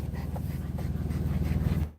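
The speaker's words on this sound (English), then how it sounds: "You are such a disgusting dog." A dog pants close up, fast rhythmic breathy huffs running steadily for about two seconds.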